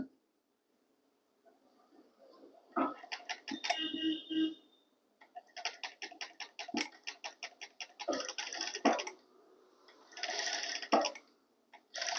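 A sewing machine stitching a thread piping blouse runs in several short, close bursts of rapid mechanical ticking, separated by brief pauses, with no talk.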